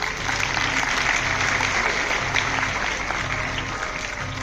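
Audience at a student honouring ceremony in Bhavnagar claps for a guest, a steady, dense round of applause lasting several seconds with faint voices underneath.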